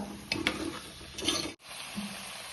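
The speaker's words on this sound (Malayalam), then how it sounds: "വെളിച്ചെണ്ണ ചൂടായ അതിലേക്ക് നമുക്ക് ആ പപ്പായ ഇട്ട് കൊടുക്കാം ഒന്ന് വാട്ടിയെടുക്കണം വെളിച്ചെണ്ണയിൽ ഒന്ന് ഇളക്കിയിട്ട് കൊടുക്കുക" Papaya pieces stirred in hot coconut oil, giving a soft sizzle with a few brief scraping stirs of a spoon in the pan, close and fairly quiet, with no talking.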